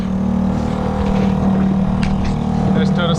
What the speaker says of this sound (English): making about 3 knots with this little 2 horsepower engine